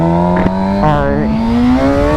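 A Suzuki GSX-R 750 motorcycle accelerating into a power wheelie, its engine loud and close with a rising, climbing whine across a brief burst.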